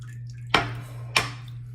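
Bloom water from a Mitchell's Wool Fat shaving soap is poured into a hand, giving two short, close wet splashes about half a second apart over a faint low hum.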